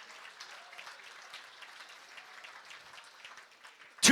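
A gala audience at a fundraising pledge drive claps steadily at a moderate, fairly distant level, with a sudden louder burst right at the end.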